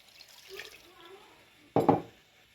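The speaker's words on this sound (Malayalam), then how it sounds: "ആ വെള്ളം നമ്മൾ ഒഴിച്ചു." Strained water from three crushed garlic cloves splashes into pakkavada flour batter in a brief, close pour that follows a few soft, quiet handling sounds.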